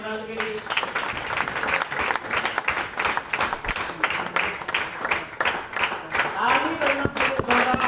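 Applause at a training session as people join the stage, a steady wash of crowd clapping filling the room throughout, with voices faintly mixed in.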